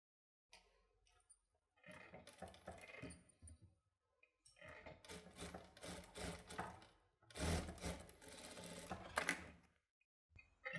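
Sewing machine stitches the wrong side of a kids' dress in a tailoring class, giving short and longer bursts of close rattling stitching separated by brief silences.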